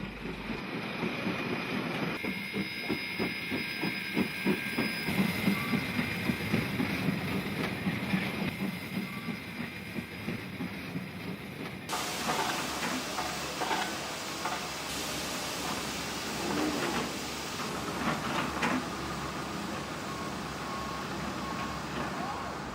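A coal train runs at Westport in the 1960s, a steady rumbling and rattling of wagons on rails that shifts in texture midway, heard through the hiss of old recorded sound.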